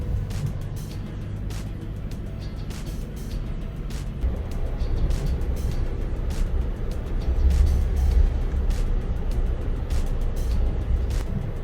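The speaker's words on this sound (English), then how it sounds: "We have a car behind us." Car following behind on a foggy road, heard as a steady low engine and road rumble with intermittent faint ticks, swelling slightly midway.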